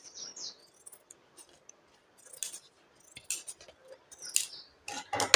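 Scissors snip through chudidar fabric along a neck shape, a series of short, crisp, close cuts in irregular bursts separated by quiet pauses.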